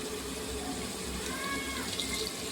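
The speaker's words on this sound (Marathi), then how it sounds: "आपण याच्यामध्ये टाकून देऊ थोडंसं पाणी आणि आपला मसाला शिजू देऊ" Water poured from a vessel into a pan of cooking masala with turmeric, salt, coriander powder and red chilli for soybean pulao, a continuous close splashing pour lasting the whole moment.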